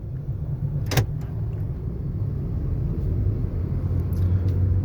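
Cabin of a manual car on the road during a driving lesson, a steady low engine and road rumble with a brief sharp click near the start and faint rattles, no voices.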